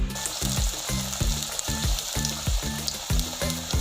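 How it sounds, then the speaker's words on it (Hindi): Besan naan shallow-frying in a pan gives a steady, close oil sizzle with a fast repeating bubbling pulse, loud and continuous, with no voices over it. "ये देखें नाज़रीन, हमारे नान फ्राई हो रहे हैं"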